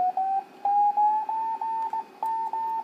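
An amateur radio receiver with a homebrew DDS VFO is tuned across the 40 meter band, giving a clear, close, steady tone that stops and restarts in short repeated segments with small pitch steps.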